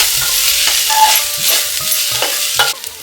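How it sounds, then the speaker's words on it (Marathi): Vegetables sautéed with goda masala and other spices in a pan: a continuous loud sizzle with repeated scraping strokes from a stirring spoon, and no speech. "हे सगळे मसाले आपण छान व्यवस्थित भाजी बरोबर परतवून घेऊया"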